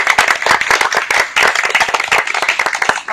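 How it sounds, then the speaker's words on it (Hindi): An audience at a diet-system health camp breaks into loud, close applause, a dense burst of many hands clapping that holds steady for a few seconds, with faint voices mixed in. "तालियां"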